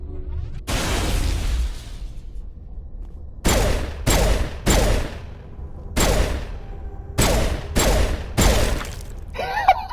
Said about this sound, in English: goddamn high explosive rounds